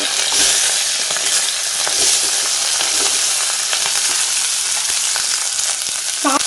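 Small onions fry in oil for a Tamil kuzhambu, giving a loud, continuous close-up sizzle with scattered crackles and pops and the odd faint clink of a utensil, with no speech.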